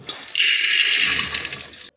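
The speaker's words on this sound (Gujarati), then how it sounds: "1 ગ્લાસ પાણી ઉમેરીશું" A glass of water pours into a pressure cooker holding soaked dried pigeon peas, a loud, steady splashing gush lasting under two seconds before stopping abruptly.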